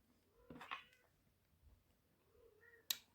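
Cats meowing indoors, one fairly clear meow near the start and a brief higher call near the end, heard alone without talk.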